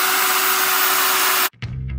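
A drill grinds a drainage hole into a ceramic pot without a diamond bit, a loud steady whine that cuts off abruptly and then resumes more faintly.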